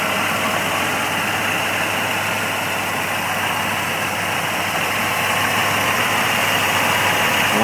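A restored 1980 Buick Regal Turbo with its 231 turbo V6 idles steadily and close by, a continuous even rumble with a faint mechanical whine running throughout, no voices over it.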